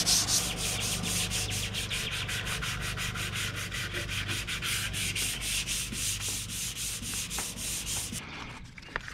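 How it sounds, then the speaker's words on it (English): Hand sanding of a faded, oxidized car headlight lens with a Harbor Freight headlight lens renewal kit, a steady rhythmic scraping of back-and-forth strokes, close and continuous for several seconds before stopping. "I've been sanding already for about 20 minutes"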